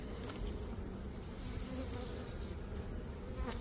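Honey bees buzz steadily around an opened hive during a spring hive check, a dense continuous drone close by with no talk.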